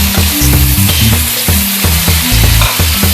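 Fresh tomato puree from six tomatoes hits sizzling Amritsari chicken masala gravy in a pan, loud crackling and hissing broken by rhythmic stirring scrapes and thumps, close and continuous.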